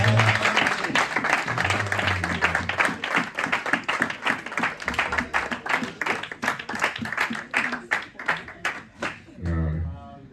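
A church congregation applauds Regina's mother, with dense, rhythmic clapping that runs throughout and stops near the end, while voices call out and talk over it.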